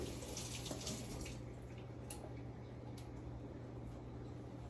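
Tap water runs into a kitchen sink while basil is washed, a faint steady splashing hiss over a low background hum.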